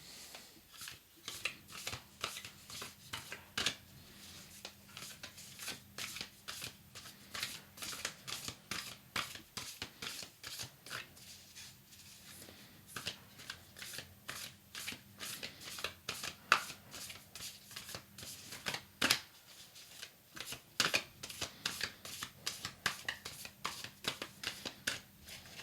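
Tarot cards from a Red Madonna deck being shuffled by hand, a close, steady run of quick papery riffles and flicks with a brief pause near the end, no talking.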